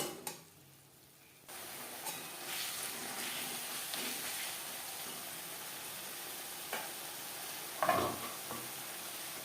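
Ground masala and whole spices frying and being stirred in a pan for a vegetarian potato and pointed gourd curry, a steady close sizzle running throughout with occasional scrapes and one sharper clatter near the end.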